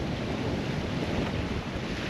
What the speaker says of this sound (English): Man, look at that wind.